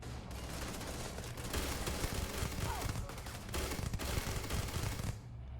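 Weapon fire in the video game Starfield, heard as continuous rapid automatic bursts with dense, booming low-end impacts that run almost without pause and then cut off near the end.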